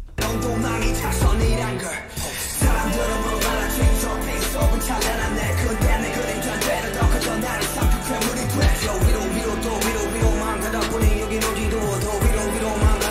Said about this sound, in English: it sounds like it has kind of the hall reverb effect